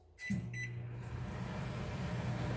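A microwave oven heating a glass plate hums steadily after a couple of soft clicks and beeps at the start, a low constant drone close by.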